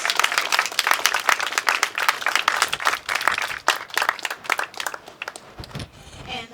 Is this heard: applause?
yes